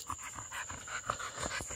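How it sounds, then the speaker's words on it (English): Airedale terrier puppies pant rapidly outdoors at night, a quick rhythmic huffing with a few faint whimpers, close to the microphone and fairly soft. "a lot of panting going on out here"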